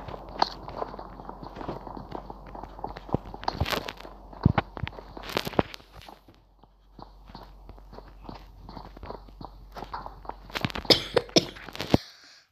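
Someone who is a little unwell coughs repeatedly, short sharp bursts scattered irregularly over quiet indoor noise with soft shuffling, the coughs close and fairly loud.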